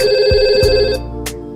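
Simulated telephone ring in Cisco Packet Tracer VoIP network setup: a loud synthetic electronic ringtone with steady tones, sounding alone in two short bursts.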